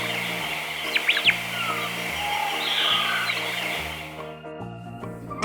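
Parrots chirp in a few short, bright calls over a looping musical background, faint and brief within the mix.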